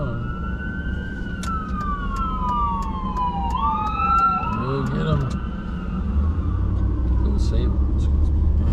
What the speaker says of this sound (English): Ambulance run.